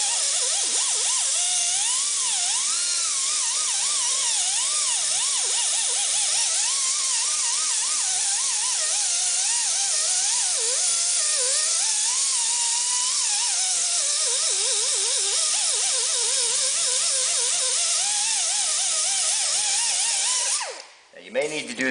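A rotary tool with a cleaning wheel grinds continuously against an engine gasket surface on an International Harvester Scout 2, its high whine wavering in pitch as pressure changes, close and loud throughout before stopping at the end.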